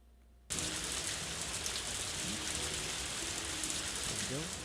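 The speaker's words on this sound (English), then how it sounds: "Got the nice little rain effect in the background." Steady rain pours down as a dense, even hiss after a quiet start in the video game Harvest Moon: A Wonderful Life on Nintendo GameCube, with faint chirping tones rising briefly in the background.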